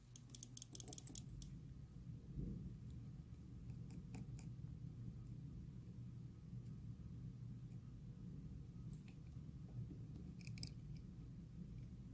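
A driver's seat belt buckle switch is clicked several times in quick bursts, sharp faint clicks near the start and again later over a low steady rumble, with no talking.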